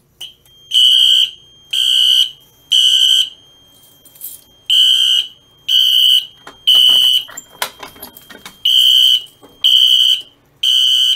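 A Simplex fire alarm pull station triggers a loud electronic horn that blares in repeated short bursts, about ten pulses with brief gaps, each one harsh and close, with a few clicks between them.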